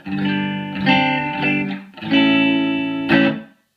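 Distorted electric guitar chords through a ZT Lunchbox amp with its ambiance control turned up ring out in two strummed bursts, with a washy, spacious tail that gives a roomy, reverb-like feel before cutting to silence.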